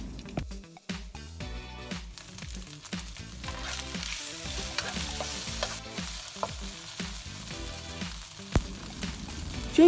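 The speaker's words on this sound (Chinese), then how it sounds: "材料爆香后，我们才放入我们的五花肉，然后将它炒一炒" Pork belly and garlic stir-fried in a wok sizzle continuously, with repeated spatula tosses and scrapes, under background music.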